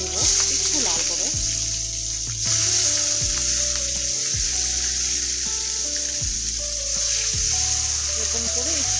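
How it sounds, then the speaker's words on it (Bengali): Potato pieces fry in hot oil in a wok, giving a steady, close sizzle with intermittent stirring scrapes and clinks, while a voice talks over the cooking throughout. "এরকম করে একটু 2 থেকে 3 মিনিটের মতন আলুগুলোকে একটু ভাজা করে নেব"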